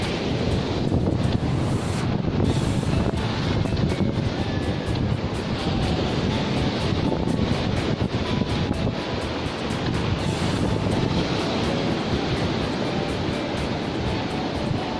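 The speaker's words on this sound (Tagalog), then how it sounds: "yung alon, ang lalaki." Big ocean waves crash steadily onto a beach at Miag-ao, Iloilo, a continuous loud roar of surf mixed with heavy wind buffeting the microphone, with no voices.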